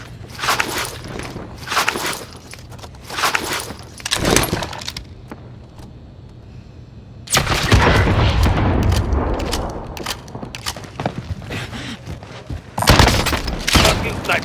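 Call of Duty Warzone gameplay with bursts of gunfire and heavy booms coming in clusters, separated by quieter stretches of movement noise, loud and near in the mix, with an announcer-style voice speaking at points.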